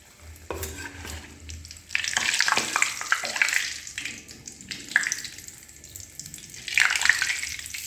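Puris frying in hot oil in a wok, a steady bubbling sizzle that surges louder in bursts as the dough puffs up, close by with stirring and splashing, no talk.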